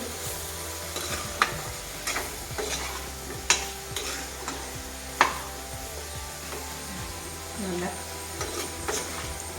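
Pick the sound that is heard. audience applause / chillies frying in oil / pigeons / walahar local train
chillies frying in oil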